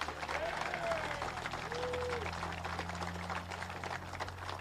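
Applause from a crowd at a United Steelworkers union rally on an infrastructure bus tour stop in Chesterton, Indiana, a steady dense clatter of clapping through the whole stretch, with a faint voice briefly audible underneath.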